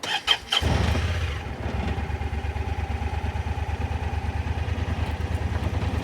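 An inoperable side-by-side UTV bought at auction cranks and catches, then settles into a steady, loud, close idle with a fast regular chug, running alone with no talk.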